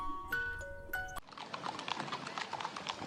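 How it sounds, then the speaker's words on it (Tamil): Horse hooves clip-clop in quick repeated taps as a horse cart moves along, preceded by a brief bell-like ringing tone; the hooves are fairly faint and mid-distance, with no talking. "குதிரை வண்டி"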